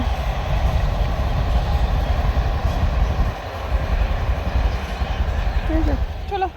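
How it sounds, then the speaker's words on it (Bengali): A train runs past a tea garden with a steady, loud low rumble that holds throughout, dipping briefly midway, with faint speech-like sounds near the end. "যাচ্ছে ট্রেন"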